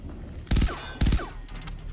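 Two sharp pistol shots ring out in the video game Far Cry 3 Blood Dragon, each followed by a short mechanical clatter and a fading echo, about half a second apart.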